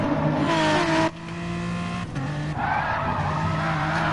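A race car in a racing game, M4 league, skids off-road with a long tire squeal over a steady, loud engine roar that dips and surges, with no voices.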